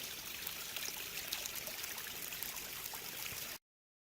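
Water from a spring-fed stream trickles over rocks along the Appalachian Trail, a steady, faint, even babble with no voices that stops abruptly near the end.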